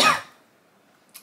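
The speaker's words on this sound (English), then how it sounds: "I just need a little cough," One short close cough from a woman opens, followed by near silence and a faint brief rustle at the end.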